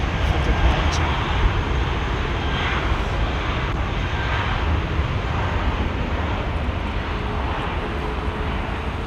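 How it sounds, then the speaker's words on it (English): Emirates Airbus A380 touching down at London Heathrow, a steady distant rumble of jet engines with low broadband noise that stays even throughout, with talk faintly present underneath. "I've just seen an Emirates 380 touching down left side"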